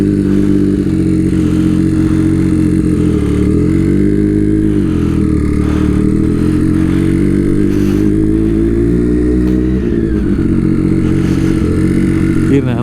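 A Triumph Daytona 675R sportbike being ridden gives a continuous loud engine drone with rising and falling pitch as throttle shifts, plus a steady rush of wind over the whole stretch.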